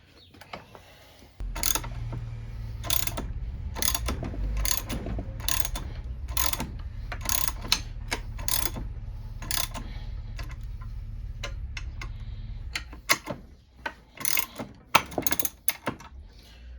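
A bearing puller tool being tightened around the outer race of a bearing to lift it out, giving a steady run of ratcheting clicks and metallic ticks over a low mechanical hum, close and fairly loud.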